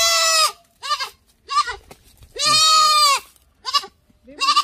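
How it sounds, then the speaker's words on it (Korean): A young goat at a rural African home bleats loudly and up close, a series of wavering cries including one long drawn-out bleat, with no talking over them. "드디어 우리 염소가 왔어요."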